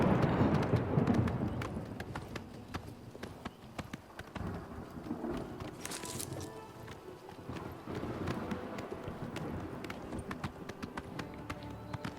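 Hoofbeats of a galloping horse in the Oblivion Remastered video game, played on Xbox Series X, thud in a steady quick rhythm alongside a soft rumble like rain and thunder, fairly quiet and with no talking.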